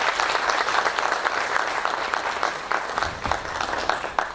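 A crowded hall at a tax education seminar keeps up continuous applause for a professor, many hands clapping together at a steady, even level.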